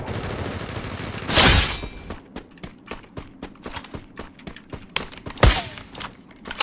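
Sniper gunfire in a video game, two loud close shots a few seconds apart with a burst of rapid keyboard-like clicking and tapping between them, no speech.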